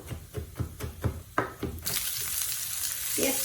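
Onion, garlic and chili go into a pan. A series of evenly spaced knocks from a utensil comes first, then a steady, rising frying sizzle takes over and continues to the end.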